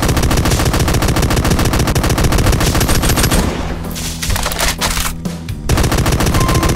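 Chaingunner enemies in Doom's Plutonia Experiment under the Project Brutality mod unload chainguns in a dense, relentless rapid-fire barrage that breaks into scattered bursts and single shots before cutting off.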